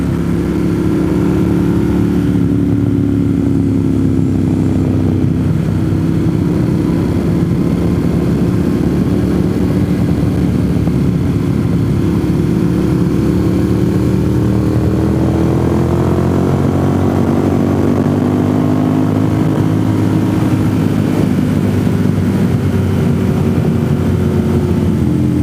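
Old motorcycle with about 21,000 miles being ridden, a loud steady engine drone with slowly rising and falling pitch as the revs shift, heavy wind rush throughout, no voices.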